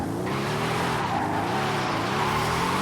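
Mercedes SL65 AMG Black Series engine in Forza Horizon 5 revving hard under a continuous loud tire squeal as the car skids, the engine note rising and falling throughout.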